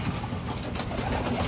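Pigeons coo softly under a dense, steady wash of background noise in a short outdoor moment, the calls faint and blended rather than distinct.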